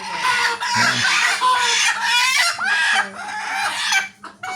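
Loud, close desi chicken clucking and squawking runs continuously, with drawn-out cackles and a crowing-like call among the rapid notes.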